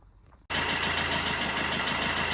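After a faint rattle, a 1.3 HDI diesel engine in a Peugeot Bipper starts and settles into a loud, steady warm-up idle with a rhythmic low chugging throughout.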